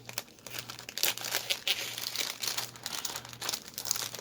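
A plastic cross stitch kit package is cut open. Close, loud crinkling and tearing of the wrapper comes in bursts, with no voice over it.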